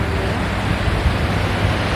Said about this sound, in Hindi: ये खूबसूरत सी नदी बहती हुई